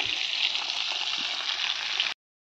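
Pieces of Bhola fish sizzle in hot oil in a pan, a steady close hiss with light crackle that holds evenly for about two seconds, then cuts off abruptly to silence.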